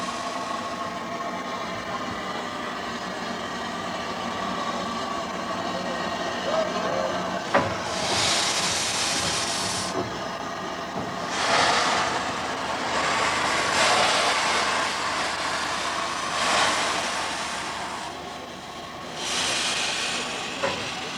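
Steam locomotive shunting back and forth at a heritage event, a steady rumbling drone with repeated bursts of hissing steam every few seconds.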